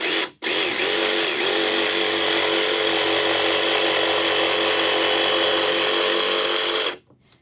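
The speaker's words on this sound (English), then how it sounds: "Now we're just gonna connect the dots by taking your jigsaw and cutting out from point A to point B." A jigsaw cuts steadily through a deck board between drilled holes, a loud continuous buzzing whine running nearly seven seconds after a brief start, then stopping abruptly.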